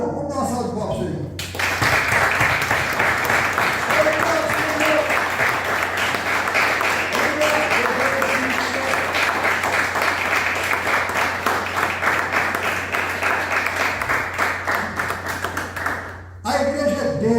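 A church congregation claps loudly and continuously for about fifteen seconds, dense sustained applause with voices calling out underneath, ending abruptly.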